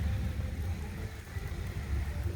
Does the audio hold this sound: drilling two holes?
no